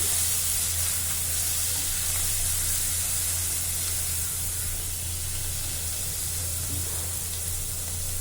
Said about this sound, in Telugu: ఇప్పుడు వీటిలన్నింటిని కూడా మీరు కొంచెం మీడియం ఫ్లేమ్ మీద పెట్టి వేయించండి